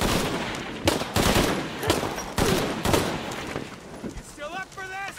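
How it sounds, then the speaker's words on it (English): Bursts of gunfire from Shadow of the Tomb Raider crack out in rapid volleys, loud and close, with short gaps between, while voices talk over the shooting. "More gunfire."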